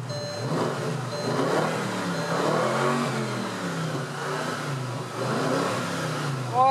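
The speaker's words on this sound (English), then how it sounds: "I do have this car running, so you can get a taste of the engine." A 2014 Bentley Continental GT V8 convertible engine rumbles at idle with a deep, throaty tone, swelling in a few moderate revs before settling, close by with no talking.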